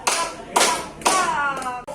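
Children in a classroom clapping game strike their hands together in a few sharp, spaced group claps, each a crisp burst followed by quick decay, with faint voices between.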